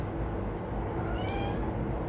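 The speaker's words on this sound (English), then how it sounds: "that's my cats. I'm outside and they can hear me through the screen. They want to come out" Cats meow from indoors behind a screen door on a balcony, a thin, plaintive call rising briefly over steady outdoor background noise.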